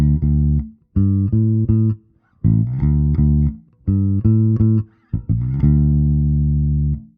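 A series of deep, round electric bass notes played in a groove, each sustained then cut off, with short gaps between phrases.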